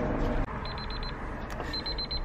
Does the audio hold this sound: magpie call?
no